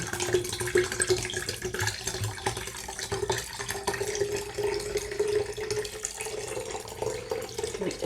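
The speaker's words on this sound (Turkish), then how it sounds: "Suyumuzu gezdirerekten ilave ediyoruz ki ıslanmamış kahve tanesi bulunmasın" Water poured steadily over coffee grounds in a container while making homemade cold brew, a continuous soft splashing and trickling stream heard close up without any talking.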